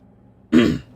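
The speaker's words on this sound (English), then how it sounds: "Sorry for clearing my throat." A man clears his throat once, a short, loud, rough rasp cutting through an otherwise quiet room.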